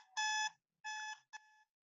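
A digital alarm in a SCADA perfume-factory simulation signals a full tank with three bright electronic beep bursts: two long tones, then a shorter one, loud and alone against silence.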